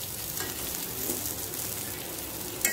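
Masala-coated anjal (seer fish) fries Mangalorean style on a tawa, giving a steady, soft sizzle at close range with one brief sharper crackle near the end.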